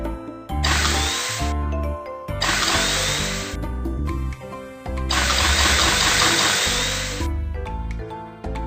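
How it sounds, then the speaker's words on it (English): A cartoon ice drill grinds through ice in three loud, whirring bursts, each a buzzing mechanical drone with brief pauses between. "First, drill some holes on the ice."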